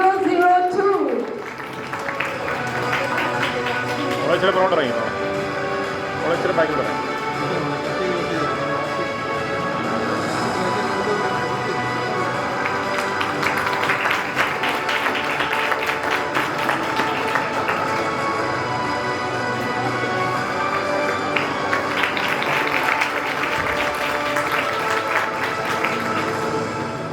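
Audience applause at a national moot court competition, steady dense clapping throughout with announcer speech over it.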